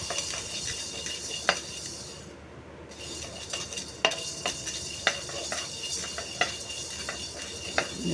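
Fenugreek seeds roasting in a kadai, a steady dry crackle under sharp, scattered clicks and scrapes of a stirring spoon against the metal.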